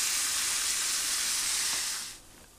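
Lean ground beef for chili browning in a pan, giving a steady bright sizzle and hiss that runs for about two seconds, then drops away to a quieter background.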